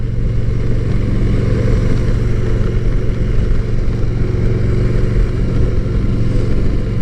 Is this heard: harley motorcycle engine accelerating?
yes